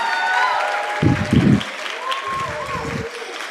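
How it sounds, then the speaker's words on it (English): Applause from the audience at a university drama awards ceremony, steady clapping through the clip, with a voice speaking over it part of the time. "So a huge round of applause for all of you."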